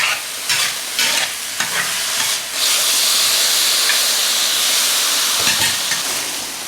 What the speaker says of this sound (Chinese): 这是买好的那个热干面，熟的，我们给它炒一下